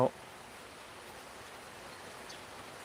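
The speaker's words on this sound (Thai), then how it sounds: "ฝนตกแต่เช้า" Continuous rain hisses over Buddhist temple grounds in Thailand, a soft broadband wash with a brief louder knock at the start, steady and moderately faint.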